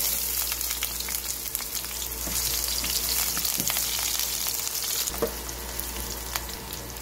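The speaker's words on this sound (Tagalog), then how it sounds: "Gigisahin lang natin ang pangunahing sangkap gaya ng bawang, at sibuyas." Garlic and onion sautéing in oil in a pan, a continuous close sizzle with occasional stirring scrapes and light clatter throughout.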